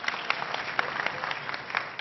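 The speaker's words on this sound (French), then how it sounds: "Applaudissez pour elle, la paix." Crowd claps at a comedy show in a cinema, a brief burst of quick, scattered clapping that sounds somewhat thin and muffled, with no voices over it.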